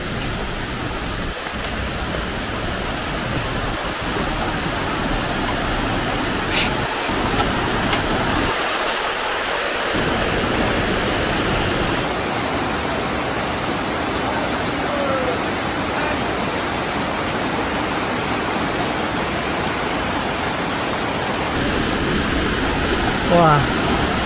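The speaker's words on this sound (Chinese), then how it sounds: "过去就是云深瀑布。" Yunshen waterfall on a mountain trail roars as a steady, loud, broadband rush. It fills the whole stretch without pause, with brief bumps of handling noise.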